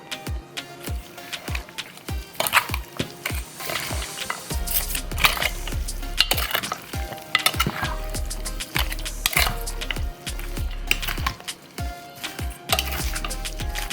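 Onion, green onion, garlic and pepper are stirred in a pan. A utensil scrapes and clinks against the metal in quick, uneven strokes, close and fairly loud, with faint sizzling between the strokes.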